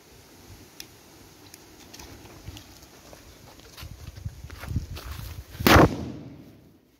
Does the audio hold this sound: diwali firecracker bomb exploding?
yes